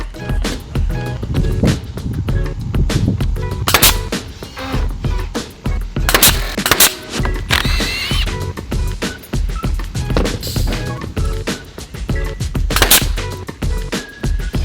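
A pneumatic nail gun fires nails into metal connectors on roof framing over a deck, sharp repeated cracks at an uneven pace with clattering and handling noise between shots.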